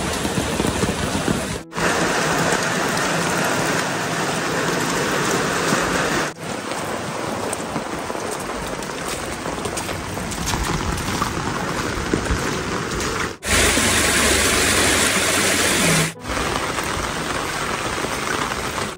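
Heavy monsoon rain pours outdoors in rural Kokan near farm fields, a loud, dense, continuous hiss of drops on surfaces, broken by a few brief cuts, with no voices.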